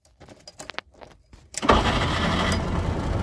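A Trabant 601's two-stroke engine cranks and fires at about 1.5 s, then settles into a loud, steady, rattly idle close by, after a stretch of quiet handling sounds.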